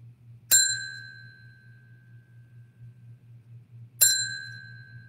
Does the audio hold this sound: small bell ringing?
yes